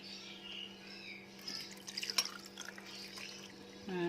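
Water poured into 200 ml of coconut milk in a bowl, making a steady, faint trickle and light dripping with a few soft splashes midway, heard close up with no talking.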